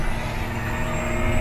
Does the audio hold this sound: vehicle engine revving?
yes